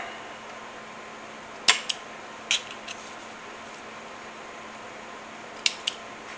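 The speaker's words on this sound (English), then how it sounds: "cut the thread where I started" Scissors snip through sewing thread on a stuffed stick horse project, a few crisp separate clicks close by in a quiet room with a faint steady fan hum underneath.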